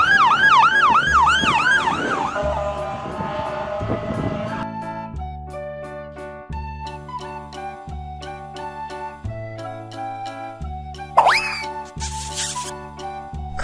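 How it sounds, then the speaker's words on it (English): An ambulance siren wails loudly in a rapid rising-and-falling pattern, then gives way to a plain electronic melody with a short chirp near the end. "Ambulance."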